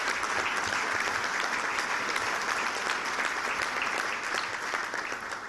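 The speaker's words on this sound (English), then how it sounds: "let's have a round of applause for him." A crowd at a chamber of commerce breakfast applauds a retiring honoree with steady, full clapping throughout that fades slightly at the end, and no voices over it.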